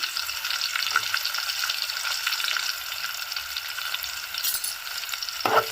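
Onions fry in ghee with cinnamon, cloves, cumin and shahi jeera, producing a steady close sizzle with scattered crackles and a clatter of stirring near the end.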